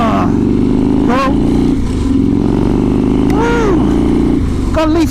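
A 2016 Harley Davidson Softail Custom rumbles loudly on the road with a deep, steady V-twin drone and slight shifts in pitch as it rides, while wind buffets the microphone and a voice speaks intermittently over it.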